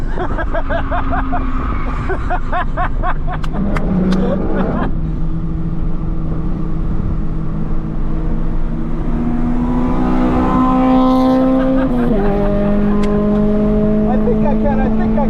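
Racing cars, including a Honda Fit and an Acura RSX, run laps at Blackhawk Farms Raceway, engines droning and shifting through gears with steady rising and falling tones, loud and close, under occasional voices.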